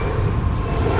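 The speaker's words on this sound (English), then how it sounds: "Did you see the train?" A train passing close by, a loud continuous rumble with a rushing hiss over the whole short moment, no voices.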